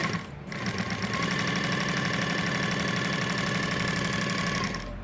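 A Juki DNU-1541S industrial sewing machine runs at steady speed, a loud continuous motor hum with a rapid even needle clatter that starts, holds for several seconds and cuts off, nearby with no talking.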